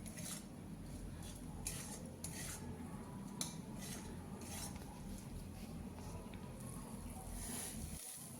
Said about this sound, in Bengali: আলু দেওয়ার পর আমি আরও 2 মিনিট কষিয়ে নিচ্ছি।